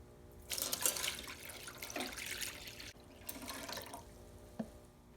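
Water is poured into an ultrasonic cleaner to soak bicycle derailleur parts, a faint splashing pour in a couple of bursts with a small drip near the end.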